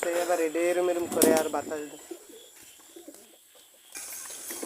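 Soft pigeon cooing up close at a bird farm, with a burst of louder calling early on, then quieter scattered coos over a low background.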